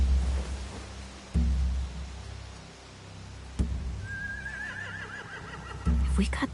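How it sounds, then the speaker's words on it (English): Horses neigh and whinny in The Walking Dead video game by Telltale, a clear rising whinny with trailing vibrato standing out over low background noise and a few heavy thumps. "They have horses."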